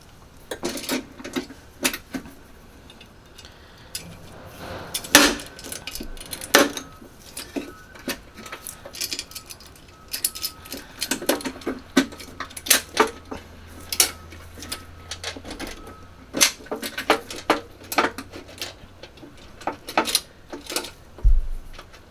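Metal bolts and washers clink and tap while a drift bar is fitted to a Crazy Cart kart, with sparse, irregular close-up clicks and knocks spread across the whole stretch.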